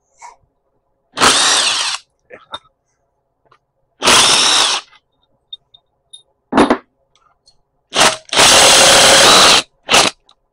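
A power driver spins out head bolts on a Kohler Command 18HP engine in four loud, close whirring bursts of about one second each, separated by silences with faint clicks and handling noises.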